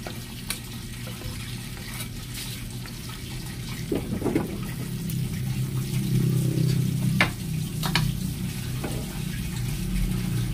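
Ingredients sautéing in a pan in a home kitchen, a soft steady sizzle that swells after a few clattering utensil knocks, alongside a low hum and scattered light taps, with no talking.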